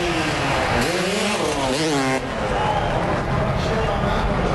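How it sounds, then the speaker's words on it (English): A Kawasaki freestyle motocross bike's engine revs and rises in pitch amid loud, continuous event noise, with a commentator talking over it. "One thing about Mad Mike, if he can swing a leg over that Kawasaki, he's going to go riding"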